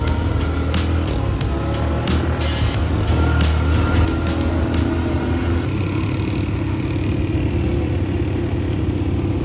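An ATV engine roars steadily at close range while riding a black lava trail at Mayon volcano, with loud continuous rumble and rushing wind noise throughout.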